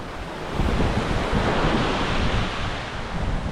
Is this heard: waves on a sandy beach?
yes